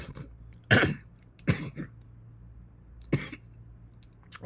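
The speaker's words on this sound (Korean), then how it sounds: "갑자기 기침이 나오는데" Three separate coughs, close and fairly loud, spaced apart with quiet room tone between them; no talking.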